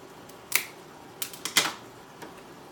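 Several sharp snips as shears cut an old fan off a large phragmipedium orchid during repotting, a lone click, then a quick burst of two or three close cuts, with no talking.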